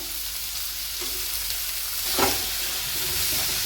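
Onions sautéing in a pan for a fish puttu, a steady close sizzle and hiss with a brief stir or clatter in the middle.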